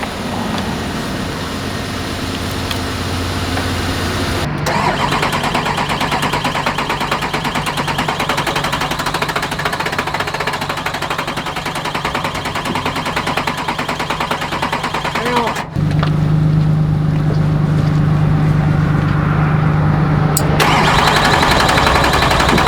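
A diesel engine that has run out of fuel cranks at length in a loud, continuous churn, then catches and settles into a steady, close idle with a brief pause in between.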